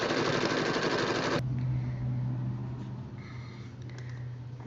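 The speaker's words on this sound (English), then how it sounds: "I then proceed to sew." Sewing machine stitching a quilt block with the needle starting from the down position, a steady loud mechanical whirr that drops to a lower, even hum partway through, close and continuous with no speech.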